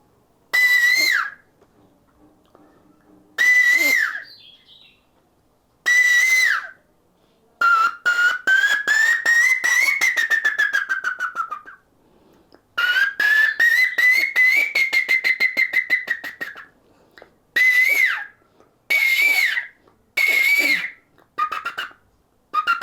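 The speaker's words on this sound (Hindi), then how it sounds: "कोयली कैसे बोलत है इस समय" An Asian koel calls repeatedly outdoors, loud, clear whistled notes in short bursts, then longer runs of rapid rising and falling repeated notes, separated by brief silences over about twenty seconds.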